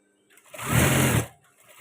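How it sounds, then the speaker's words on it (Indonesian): A sewing machine stitches a men's batik shirt in one short burst of about a second, rising and falling close by in an otherwise quiet room. "kita jahit yang sebelah sini"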